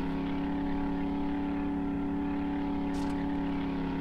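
Engine of a vehicle in the game 7 Days to Die that is struggling, a steady droning hum with layered tonal harmonics running continuously at even loudness, with no talk over it.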